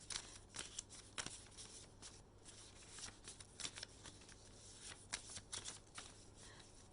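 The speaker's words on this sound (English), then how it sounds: "I would just shuffle this without seeing" A deck of message cards for a spirit-guide tarot reading is shuffled by hand, giving a steady flurry of soft riffling card flicks with no talk.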